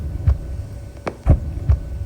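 Heartbeat sound effect in WGT Mobile golf, three or four deep, thudding low beats spaced evenly over a faint steady hum, with no voices.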